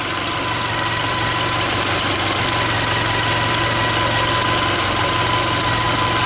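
VW Golf 5 with a 1.6 petrol engine, near 200,000 km, idling under an open bonnet, giving a steady, loud, close mechanical hum with a faint ticking rattle and no voices.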